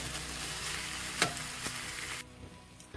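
Cream cheese melts and sizzles steadily in a pan on an RV stove, with a few soft scrapes of stirring, before the frying quiets toward the end.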